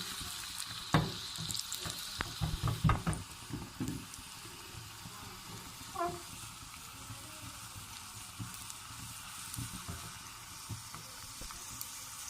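Ginger tadka sizzling in hot oil for shahi daal, a steady low frying hiss with a few sharper crackles and stirring clatters early on, close and moderately quiet, with no talking.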